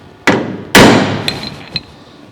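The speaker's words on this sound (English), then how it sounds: "what I'll do is just hit it with another hammer" Two sharp metallic strikes of one hammer against another, the second louder and ringing, followed by a couple of lighter taps, during roof rust repair on a 1970 Holden HG ute.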